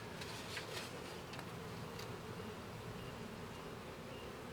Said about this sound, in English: They are very fidgety, these bees, and I don't like bees that are going to sting me.